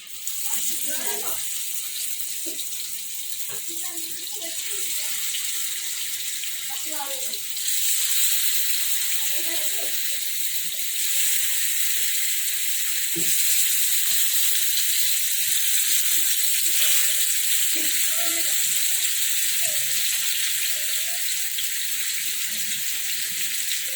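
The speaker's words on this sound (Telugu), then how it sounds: "ఆయిల్ వేడెక్కిందండి. మనం ఫిష్ వేసుకున్నాం." Pieces of fish frying in hot oil in a pan give a steady, bright sizzling hiss that runs throughout, while a person talks over it.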